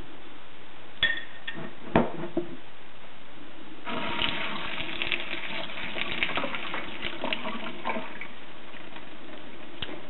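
Sprouts rinsed under a running tap, a steady splashing gush of water starting a few seconds in after a couple of sharp clinks, filling the rest of the clip close and fairly loud with no talk.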